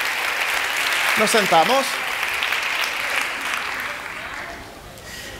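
Audience applause fills a neuromotricity conference lecture, a dense, steady wash of clapping that runs the whole time and fades slightly toward the end, with a voice briefly speaking over it.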